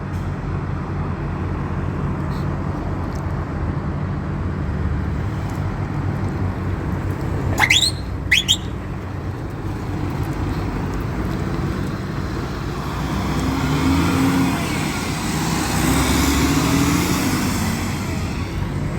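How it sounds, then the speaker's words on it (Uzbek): A Rustamel intercity bus running Tashkent to Yekaterinburg pulls away from the station, a steady low engine rumble amid road noise, with two short sharp squeals midway and the engine swelling near the end. "Rustamel avtobusimiz yo'lga chiqib ketyapti."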